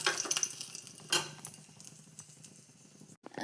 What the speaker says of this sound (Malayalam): അപ്പോൾ ഈ ഇല നല്ലോണം മൂപ്പിച്ചെടുക്കുക കേട്ടോ